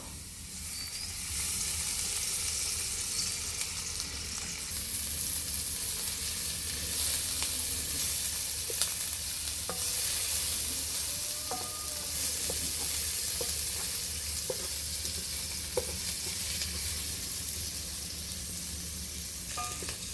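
Chopped onions frying in oil in a pan, a continuous close hissing sizzle with scattered pops and light stirring scrapes over a low hum, no talking.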